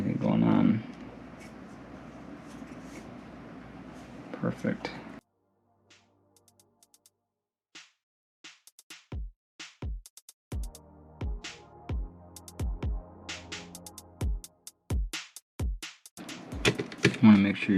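Small screws being driven back into a GPU fan assembly while replacing a failed video card fan, a series of quiet, sharp close clicks and taps after a stretch of talk, with a brief spoken word near the end.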